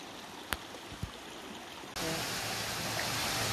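A small waterfall and creek on a Blue Mountains walking trail, a soft steady rush of water that swells louder partway through, with a couple of faint knocks early on.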